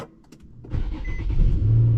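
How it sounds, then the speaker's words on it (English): A car that has sat unused for a while, low on gas, cranks and its engine starts, settling into a low rumbling idle that grows steadier and louder over two seconds, with no talk. "I'm gonna see if my car's still gonna start up"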